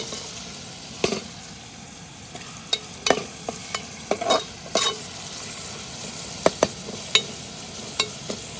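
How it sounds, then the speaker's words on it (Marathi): A tempering of mustard seeds, curry leaves, green chili and onion sizzles in hot oil, with a low steady fry. Sharp spoon scrapes and clinks of stirring break in at irregular intervals, and there are no voices. "आता फोडणी दिलेली असा मोहरी कडीपत्तो हिरवी मिरची आणि कांदो"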